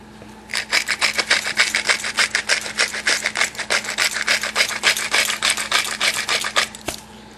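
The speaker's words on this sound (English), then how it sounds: "So I'm going to stir this up." A spoon stirs cornmeal and water for polenta in a pot, making rapid, rhythmic scraping strokes, close and fairly loud, that run steadily for about six seconds and then stop.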